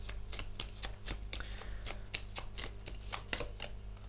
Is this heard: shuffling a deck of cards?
yes